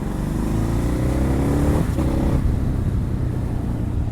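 Ducati Hypermotard 950 motorcycle pulling away after clutch release, a loud steady engine drone with harmonic bands that shift mid-run as it accelerates, with no talk.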